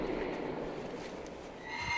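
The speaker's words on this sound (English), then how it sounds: "We got horses across this road over here." A horse neighs in the video game World of Warcraft, heard faintly at a distance over a steady ambient game background. A brief whinny rises near the end.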